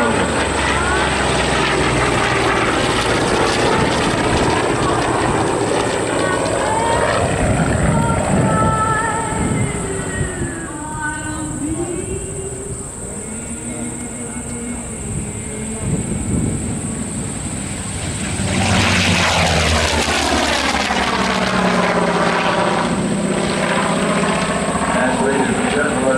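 Corsair propeller fighters fly past at an airshow, a loud, droning radial engine roar that swells, recedes and swells again with Doppler sweeps, under a public-address announcer talking throughout.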